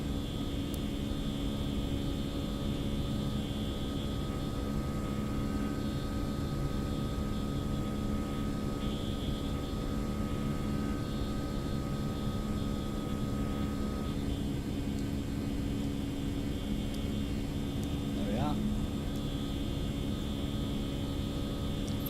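An airliner in a flight simulator game makes a flyby, giving a steady, droning engine roar with a faint rising whine partway through, constant and unbroken, with no voices.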